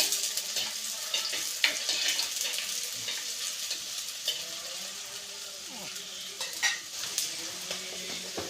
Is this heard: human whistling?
no